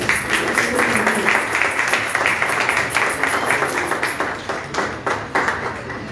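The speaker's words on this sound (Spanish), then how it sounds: "Recibámoslo con un fuerte aplauso." Crowd applause at a church service, with rhythmic clapping, steady and lively throughout, gradually thinning toward the end.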